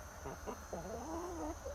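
A rooster clucks a few short times and then lets out a longer, wavering cluck, close by over a faint steady background hum.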